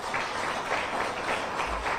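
Steady, dense applause from a crowd at a Venezuelan political gathering, continuous clapping that stays loud and even throughout without any voices on top.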